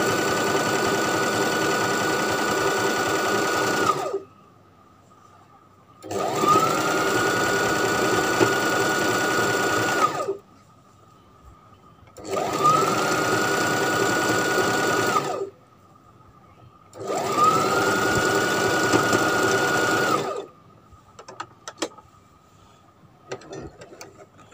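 A sewing machine stitches an extension onto a short T-shirt sleeve, running loud and close in four steady bursts of several seconds each, with short pauses and a few faint handling clicks at the end.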